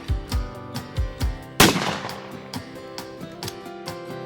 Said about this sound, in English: in the last few years we've added trap shooting that we offer twice a week